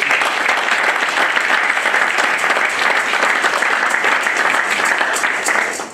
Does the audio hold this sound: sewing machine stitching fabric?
no